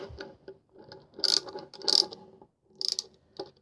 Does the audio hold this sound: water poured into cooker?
no